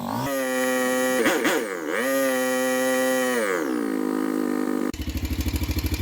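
A Honda RFVC single-cylinder motorcycle engine (XL600R, XR600R, XR650L type) with a worn cam chain tensioner runs close by; a sustained droning tone shifts in pitch, then gives way to a rapid, rhythmic idle thumping near the end.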